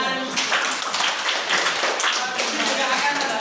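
A classroom full of students clapping their hands together: dense, fast, uneven applause at a steady level, with voices mixed in among the claps.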